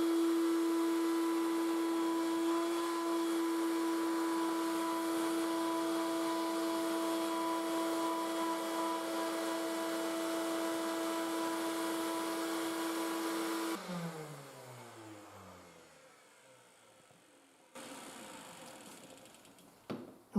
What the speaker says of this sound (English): Put it in here, turn on the vacuum, and just let it go.